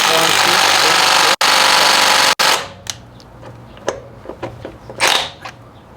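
A Kimo 20V half-inch cordless impact wrench loosening a car lug nut: loud continuous hammering bursts broken by two sharp cut-offs, then sporadic clicks and short rattles as the nut spins free.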